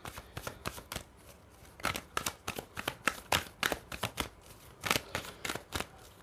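Tarot cards shuffled by hand in quick bursts of crisp riffling clicks, close and fairly quiet, with short pauses between runs and no talking.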